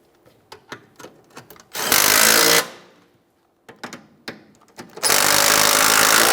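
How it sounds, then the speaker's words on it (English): Mounting bolts on a rear sway bar bushing bracket of a 2008-2017 Mitsubishi Lancer are run in and snugged with a power tool, giving two loud sustained bursts of driving between short clicks and clanks of handling. "Continue on with our two 12mm headed mounting bolts. Start them in, snug them up."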